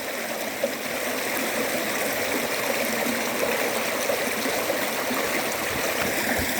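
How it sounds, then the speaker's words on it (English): The Lottering River rushes and burbles steadily over a low water bridge, a constant broadband wash of flowing river with no voices, close and even throughout. "this is the Lottering River. This is the low water bridge."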